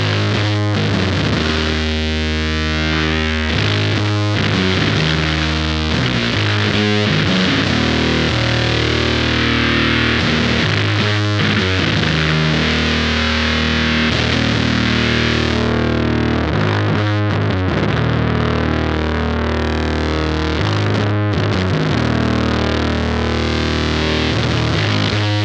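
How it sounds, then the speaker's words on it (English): Electric guitar played through an Electric Love fuzz pedal with every knob at noon: thick, saturated, buzzing distortion, loud and steady with chords and riffs sustaining across the whole stretch, no talking. "Let's go ahead and move on to fuzz, everything at noon."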